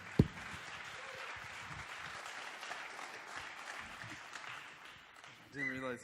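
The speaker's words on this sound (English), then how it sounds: "give him a huge round of applause" Steady applause from a conference audience at a North American Bitcoin event fills the room for several seconds at a fairly even level, then a voice begins speaking near the end.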